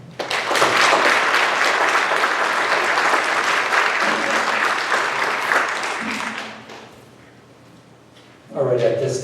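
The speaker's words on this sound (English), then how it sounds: "Please join me in giving a warm welcome and round of applause to our" Warm, full applause at a high school distinguished alumni ceremony, loud and sustained for about six seconds before fading out, followed by a short quiet gap and a voice starting to speak.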